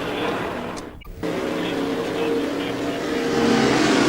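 IndyCar race engines drone continuously at a 1998 oval race, a steady loud roar with a brief cut near the start and rising intensity toward the end, under race commentary.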